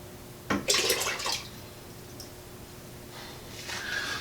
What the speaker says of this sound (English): Let's take this bit of proofed yeast and wort, get it in here.